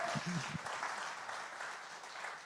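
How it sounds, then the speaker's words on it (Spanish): Applause from a church congregation during a sermon, a steady wash of clapping at moderate level, with a brief voice at the start. "eso es un aplauso al Señor."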